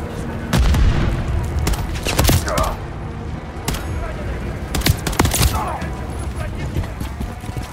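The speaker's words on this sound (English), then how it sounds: "That's a grenade." Heavy gunfire fills a Call of Duty: Modern Warfare 3 battle, with rapid overlapping shots and a booming grenade blast standing out amid the sustained, loud combat noise.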